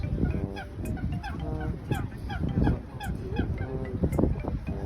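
Nasal honking waterfowl calls repeat in quick succession over a busy outdoor background, fairly close and moderately loud, with no one speaking.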